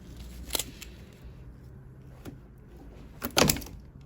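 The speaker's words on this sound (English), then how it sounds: "let's push this back on and hear the clip" Metal clip on a GM fuel line snapping into place as the connector is pushed back onto the hard line: a few brief, sharp plastic-and-metal clicks, with a louder double click near the end over faint background noise.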